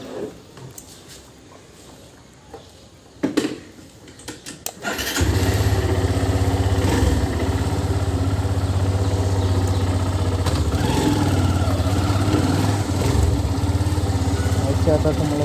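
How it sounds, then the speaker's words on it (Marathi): Motorcycle cold start: a few faint clicks and cranking thumps, then the engine catches and settles into a loud, steady idle right beside the listener. "तर बाईक कोल्ड स्टार्ट करू,"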